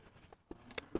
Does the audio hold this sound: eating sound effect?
no